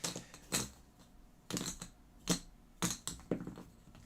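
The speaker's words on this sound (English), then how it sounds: "shuffle these up a little bit" Cascadia board game tiles are shuffled and stacked, giving several separate bursts of clattering, clicking contact close by, with short quiet gaps between the handfuls and no voices.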